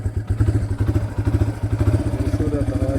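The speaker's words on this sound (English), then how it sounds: "The idling's not right on this bike." Motorcycle engine idling unevenly at close range, a loud, lumpy run of rhythmic thumping pulses that stumble and surge over a few seconds, with no talk.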